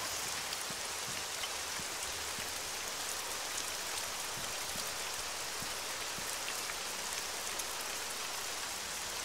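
Steady rain pours throughout in the survival game Breaking Point, a dense, even hiss with scattered drops pattering close by, heard alone with no voices.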